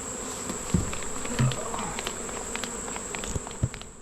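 Honeybees being boxed up from a hive, a dense continuous buzzing swarm close by with scattered thumps and knocks of handling, no voices.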